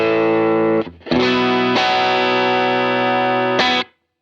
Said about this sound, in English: you can blend 2 different amps and have them panned left and right for this really massive guitar tone